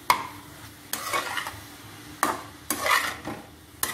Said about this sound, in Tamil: அதனால் நெய் போட்டு இப்போ நான் வதக்க போகிறேன்